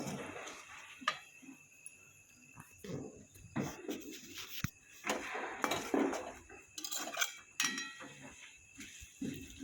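A spoon scrapes and clinks against a pan while stirring a hot-oil chilli seasoning for a puffed-rice chiwda, giving irregular metallic taps and scrapes at close range with a faint steady background hiss.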